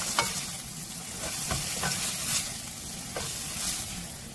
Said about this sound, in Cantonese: 將帶子煎到兩邊金黃色